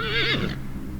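A single horse whinnies loudly and close, a rising then falling tremulous neigh that lasts under half a second before fading into low background noise.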